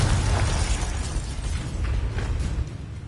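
A Confringo blasting spell explodes in the Hogwarts Legacy video game, a loud, dense rumbling boom that fills the whole clip and tails off slightly at the end.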